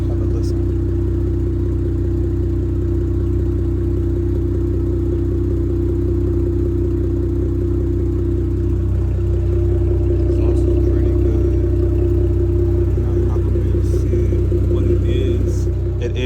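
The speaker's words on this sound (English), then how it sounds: "have a listen to see what the exhaust sounds like just idling." A 2022 Dodge Charger V6 SXT with a catback exhaust idles close by, a steady low rumble and drone holding even throughout, with a voice heard faintly over it.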